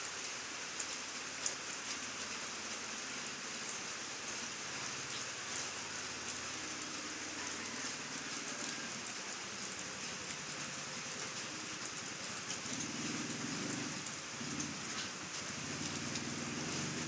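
Steady, dense rainfall pattering on surfaces, a constant wash of drops with no voices, continuing evenly throughout.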